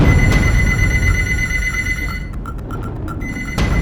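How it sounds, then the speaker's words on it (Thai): A telephone rings in a restaurant kitchen against a steady, loud background hum, with repeated bright electronic trills that stop partway through and return near the end. "โทรศัพท์ของหัวหน้าเชฟร้านอาหารลับดังขึ้น"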